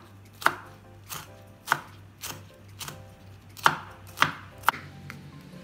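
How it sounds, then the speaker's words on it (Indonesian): A knife cuts chili peppers on a board in about eight distinct, fairly loud chops at an uneven, unhurried pace, with no talking. "Cabenya dipotong serong."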